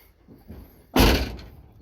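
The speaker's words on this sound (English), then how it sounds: "Door actually shuts pretty nice" The door of a 1969 Dodge Super Bee project car slamming shut, one solid thunk up close after a little faint handling noise, with no talk over it.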